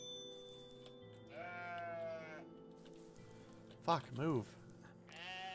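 Goats bleat in the OneShot video game, several wavering cries arriving in quick bursts near the end, with someone talking over the game music.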